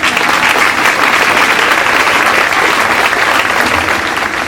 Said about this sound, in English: Let's give Mr. Peterson a big round of applause.